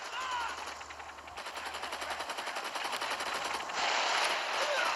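Rapid-fire bursts from a DE-45 assault rifle in the Gangstar Vegas video game, loud sustained automatic shots rattling quickly, with game sound effects underneath.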